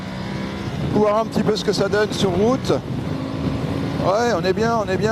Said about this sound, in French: Faire une petite accélération, voir un petit peu ce que ça donne sur route.